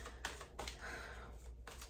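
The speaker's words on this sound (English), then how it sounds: "I'm going to start shuffling" A deck of tarot cards is shuffled in a quiet room, producing a series of soft, papery riffles and taps repeating in short bursts close by, with no voices.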